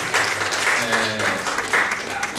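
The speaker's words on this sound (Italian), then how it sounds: "Mi unisco anch'io a questo applauso." An audience at a book event applauds warmly, sustained clapping from many hands at moderate volume, with a few voices audible beneath it.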